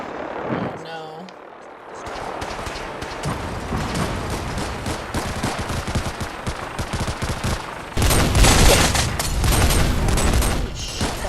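Dense rapid gunfire from a Fallout 4 firefight, bursts crackling continuously after a brief quiet opening and growing louder and heavier near the end, with game sounds mixed in.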